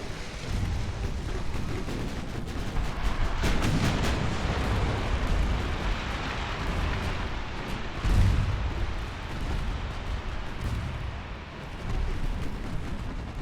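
Naval shells striking warships in Ultimate Admiral: Dreadnoughts, a string of deep rumbling blasts and impacts, some louder and closer than others, with no talk over them.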